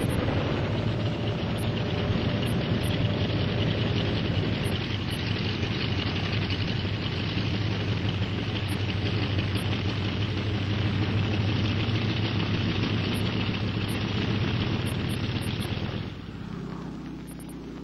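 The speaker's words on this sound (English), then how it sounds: "within minutes, the air tanker is on its way." A firefighting air tanker plane's engines roar in a loud, steady, heavy drone for most of the stretch, then drop away to a quieter rumble near the end, with no speech.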